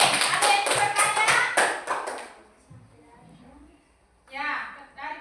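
A classroom claps for a student group in a rhythmic burst of applause that fades after a couple of seconds, with voices heard around it.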